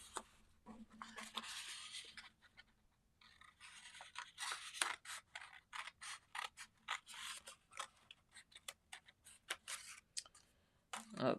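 Scissors snip through a quilting template made of paper-backed material, giving a quiet, close series of irregular crisp cuts and rustles with brief pauses and small handling noises.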